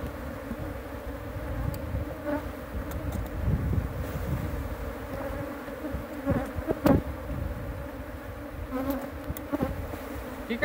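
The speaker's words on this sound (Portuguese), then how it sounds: "Tem muita abelha, hein?" Many honeybees swarm and buzz around an opened inverted hive box during a honey harvest, a steady dense drone with close passes flaring louder now and then, under light wind.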